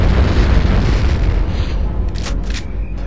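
Barrels explode in Turok 2: Seeds of Evil with a loud, deep, rumbling boom that fills the whole stretch, heavy low roar sustained and slowly settling.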